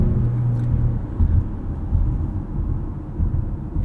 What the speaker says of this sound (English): It's a pretty unoffensive sounding 4-cylinder as well.